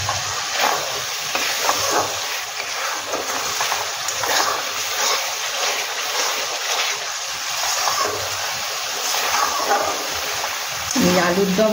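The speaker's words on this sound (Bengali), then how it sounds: "তোমার মিনিট 2 আমি একটুখানি কষিয়ে নিই।" Aloo dum being stir-fried with spices and kasuri methi in a pan, a steady broadband sizzle and scraping stir running throughout at close range, with a voice speaking intermittently over it.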